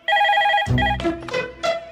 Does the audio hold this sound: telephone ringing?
yes